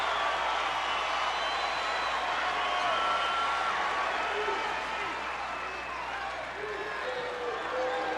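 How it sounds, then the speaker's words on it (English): A basketball arena crowd at a 1985 NCAA second-round game between ISU and Oklahoma roars and applauds in a steady, dense wash of noise, heard at a distance under a faint broadcast feel. "Listen to this crowd."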